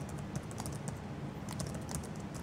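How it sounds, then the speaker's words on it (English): Someone types simple HTML code on a computer keyboard, producing quiet, close, rapid and irregular key clicks in an unbroken run, with no speech. "it's just something really simple that I'm typing up for this demonstration"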